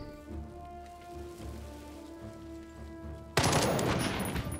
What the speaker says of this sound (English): Someone is shooting MD